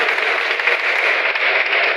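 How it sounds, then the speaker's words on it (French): An audience in a French-speaking gathering applauds referee Alain Christian and his fellow referees, giving a dense, steady wash of clapping that holds at an even level throughout, with no talk over it. "Donc je propose que tout le monde applaudisse Alain Christian et ses arbitres."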